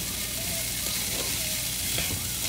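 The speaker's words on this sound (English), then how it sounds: "we're going to saute this for about 2 to 3 minutes before we add in our coconut" Spices sautéing in a pan for chickpeas with coconut, a dense, even sizzle of hot oil close up and constant, with faint stirring underneath.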